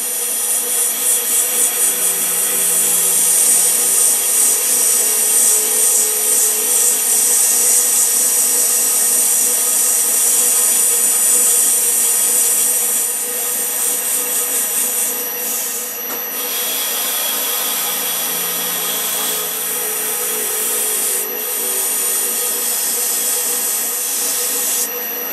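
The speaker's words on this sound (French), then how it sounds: "Alors on va poncer avec les pads maintenant en allant de plus en plus fin." Steady high whine of a resin pen spinning on a lathe while sanding pads are worked across it, a continuous loud hiss with slight shifts in pressure, no voices.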